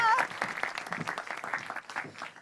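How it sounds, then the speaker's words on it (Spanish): Brief burst of studio audience applause for the judges on a celebrity cooking competition show, dense clapping lasting a couple of seconds. "Fuerte aplauso para Javier Macías, Nelly Rossinelli y Giacomo Bocchio."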